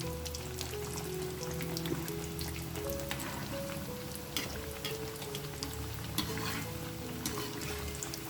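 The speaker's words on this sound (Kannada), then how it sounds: "ಸ್ವಲ್ಪ ರೆಡಿಶ್ ಆಗೋ ತನಕ ಇದನ್ನು ಫ್ರೈ ಮಾಡಬೇಕು" Batter fries in a pan over a medium flame with a soft, steady sizzle and crackle, plus scattered pops and light scraping, all fairly quiet and with no talk.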